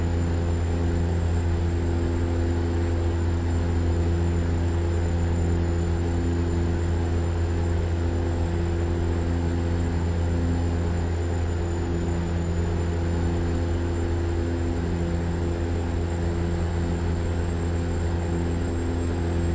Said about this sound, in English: sit back and listen to the hum of the engine